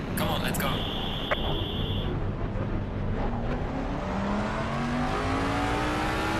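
A GT race car in Assetto Corsa Competizione on PS5 pulls out of the pit stop, its engine pitch climbing steadily as it accelerates, loud and continuous beneath a voice.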